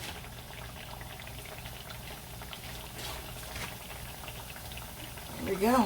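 Empanadas sizzling in frying oil, a steady bubbling crackle close by, with someone talking briefly near the end.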